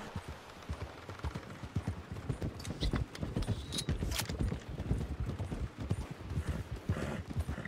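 Horse hooves clip-clop steadily and continuously in Red Dead Redemption 2, a dense rhythmic run of close, moderately loud hoofbeats with no talk over them.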